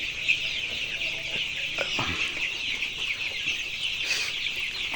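Colour bird chickens of the Sonali type in a poultry house, a flock affected by enteritis, cluck and chatter in irregular soft bursts at close range, with an occasional sharper call.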